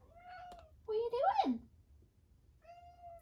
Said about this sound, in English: My cat is in the office with me